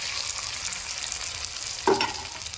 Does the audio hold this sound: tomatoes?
yes